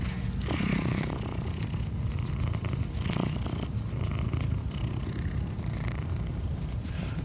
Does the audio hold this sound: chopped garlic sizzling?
no